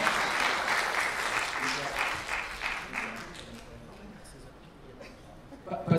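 Applause for a voice actor arriving at a dubbing panel at the Toulouse Game Show 2022; a crowd claps warmly for a few seconds, then the clapping fades as talk and light laughter take over.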